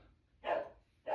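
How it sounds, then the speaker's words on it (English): A dog barks at squirrels from somewhere nearby, one sharp bark followed by the start of another a half second later, loud and clear with no talking over it. "My dog is barking at squirrels."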